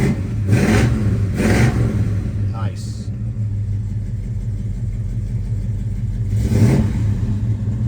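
A 1967 Chevrolet Chevelle engine idles with a deep, close rumble, then is revved in three bursts, two quick ones at the start and another near the end.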